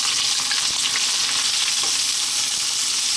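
Onion dropped into hot oil for a chicken eggplant curry sizzles loudly and steadily, a close, continuous crackling fry with no talk over it.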